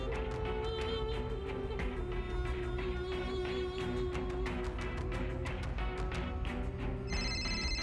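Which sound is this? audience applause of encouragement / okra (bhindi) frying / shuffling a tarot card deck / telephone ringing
telephone ringing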